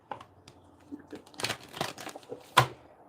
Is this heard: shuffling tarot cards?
yes